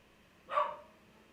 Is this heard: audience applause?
no